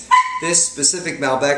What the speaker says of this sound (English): that's the dog, be quiet dog